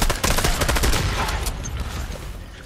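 Gunshots in the video game Fortnite, a rapid burst of loud, sharp shots in quick succession that thins out into scattered fainter shots as it fades.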